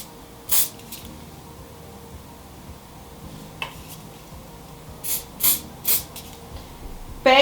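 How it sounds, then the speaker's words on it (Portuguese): Strong hairspray is sprayed onto hair while styling a half-up hairdo, as several short hissing bursts from a little distance, spaced apart with quiet between them and no talk. "você vai aplicar um pouquinho de longe, fecha o olho, do spray forte"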